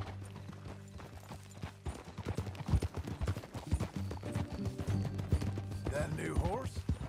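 Horse hooves clip-clop at a walking pace in a Red Dead Redemption 2 ride, irregular clustered knocks close by, with a brief whinny near the end and light ambient background.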